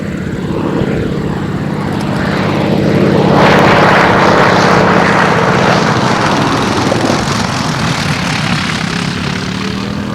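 A 1930s Beech Staggerwing biplane's propeller and radial engine drone loudly and steadily throughout, swelling slightly as the aircraft passes, with no voices.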